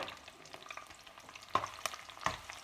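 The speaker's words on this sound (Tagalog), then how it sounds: "since mainit na ang ating mantika, lagay na natin tong garlic and onion." Garlic and onion sautéing in hot cooking oil, a soft steady sizzle with a few sharper stirring clacks near the end, close and moderately quiet with no talking.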